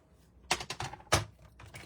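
Scissors snipping through the paper top of a gift card holder, a handful of quick crisp cuts close by in an irregular burst, fairly quiet with no voices.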